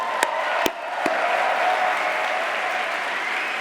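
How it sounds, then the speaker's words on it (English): An audience at a game developers awards ceremony applauds in a steady, dense wash of clapping that holds throughout, with a few sharp knocks near the start. "let's have a round of applause for the CAs who keep GDC running"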